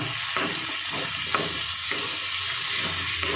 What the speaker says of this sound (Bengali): দিয়ে এবার আমি ভালো করে মশলাটাকে কষাবো।